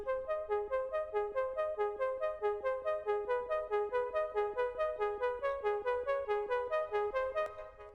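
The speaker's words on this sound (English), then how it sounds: "So that's the ARP that I'm using here." A synthesizer arpeggio built for a psytrance-style track intro, playing a fast, evenly pulsing run of bright plucked notes that repeats steadily throughout before trailing off near the end, heard alone with no talking.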